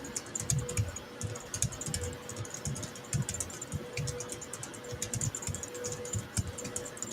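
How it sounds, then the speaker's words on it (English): Keys on a computer keyboard tick and clack in quick irregular bursts of typing, fairly close and clear, continuing throughout against a faint steady background hum with no speech. "Man, Patrick, got a lot of ticking going on over there. Your keyboard is."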